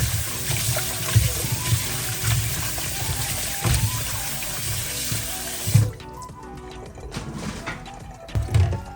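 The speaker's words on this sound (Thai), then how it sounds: "เราจะล้างกระดูกหมูให้สะอาดเลยนะครับผม" Pork rib bones with cartilage are rinsed clean under a steadily running kitchen tap, with close, full water flow and occasional knocks and splashes as the bones are handled. The flow cuts out briefly near the end.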